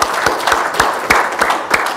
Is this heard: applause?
yes